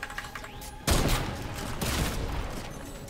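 Heavy Sniper rifle fire in the Fortnite video game cracks out as a loud, sudden blast, followed by a sustained noisy wash of gunfire and game effects.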